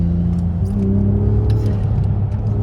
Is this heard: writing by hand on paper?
no